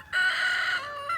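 Backyard chicken flock vocalizing in a single sustained, loud, close call, a drawn-out squawk or crow lasting about a second with no talking.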